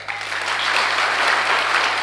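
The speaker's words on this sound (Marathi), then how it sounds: "आता वाजवा टाळ्या." Audience at a religious discourse gathering breaks into applause, a dense, steady burst of clapping from a crowd that swells and holds for a couple of seconds.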